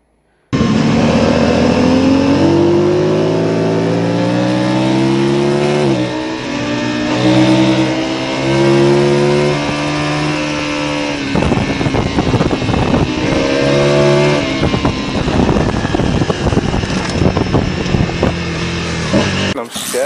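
A motorcycle engine with a stuck throttle revs loudly and continuously, pitch surging and dipping in uneven waves before breaking into rougher, choppier bursts near the end; no speech is heard.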